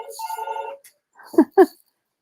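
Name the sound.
telephone ringing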